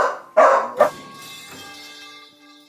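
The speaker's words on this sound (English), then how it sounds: "Sorry for the barking." A dog barks at home, two or three sharp close barks in quick succession followed by a fading ringing tail.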